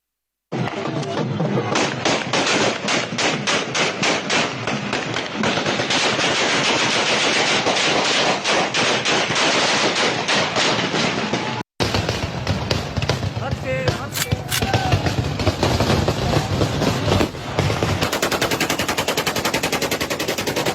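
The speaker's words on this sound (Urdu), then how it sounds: "فائرنگ چھوٹی موٹی نہیں تھی، شدید تھی اور کافی لمبے عرصے تک چلتی رہی۔" Heavy, sustained celebratory gunfire from a convoy after an acquittal, rapid automatic bursts and single shots crackling nonstop and loud, with a brief cut midway and crowd noise underneath.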